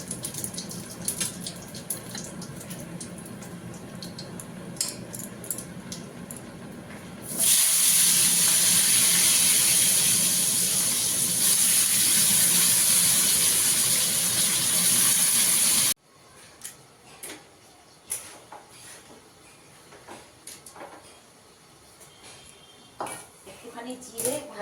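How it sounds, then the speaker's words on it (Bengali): A kitchen tap gushes loudly into the sink for about eight seconds while dishes are washed, then shuts off, leaving soft scattered clinks of pots and utensils. "ঝটপট বাসনটুকু মেজে নেব"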